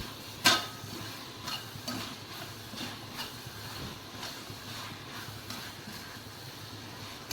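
Tomatoes and spices being stirred in a pan for a beef curry give a soft, low sizzle with periodic spoon scrapes and a sharp clink at the start, close but quiet, with no talk.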